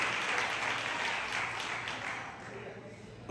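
Church congregation applauding during a Sunday morning service, a steady wash of clapping filling the room from start to finish with a voice or two mixed in underneath.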